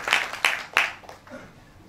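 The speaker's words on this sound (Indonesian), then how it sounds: "Tepuk tangan buat Tuhan." Congregation in a church clapping, three sharp claps close together in quick succession that then fade out.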